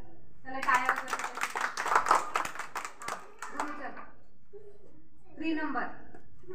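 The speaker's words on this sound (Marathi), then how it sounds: "Clap. चला टाळ्या वाजवा." Children clap their hands together in a quick burst of uneven applause lasting a few seconds, close by, with a voice speaking afterward and a short second flurry of sound.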